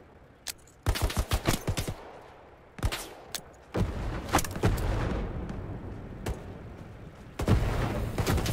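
A grenade blast and gunfire in the World War II shooter Hell Let Loose: bursts of rapid shots, then a heavy boom rolling into sustained rumble and more close firing, with no talk.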